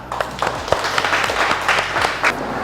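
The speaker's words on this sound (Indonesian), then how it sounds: "tepuk tangan untuk kita" A classroom of students claps for a presentation in an automotive engineering lesson, a short burst of scattered, uneven hand claps at moderate loudness with faint background noise.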